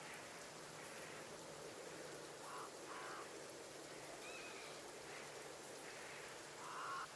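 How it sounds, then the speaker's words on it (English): Rain ambience in the video game Gunfire Reborn, a soft, steady patter of falling rain with faint scattered drips, quiet and continuous with no talking. "I still hear the rain."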